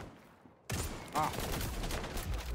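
Gunfire from the XDefiant video game bursts in suddenly after near silence, a loud dense fusillade of shots that carries on to the end with a brief tonal whine partway through.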